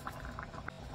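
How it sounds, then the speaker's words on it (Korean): Thick doenjang stew bubbling in a pot, a quick run of soft pops and gurgles at close range with no voices. "바글바글 끓습니다"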